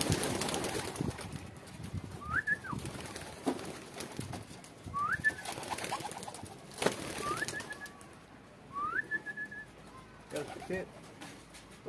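Homing pigeons cooing in a loft on a windy day, with several rising, rolling coos close by over faint background noise, and someone talking intermittently between the calls.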